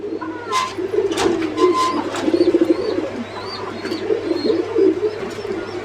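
Pigeons coo in soft repeated rolling calls close by, with a few higher chirps and a steady low hum underneath.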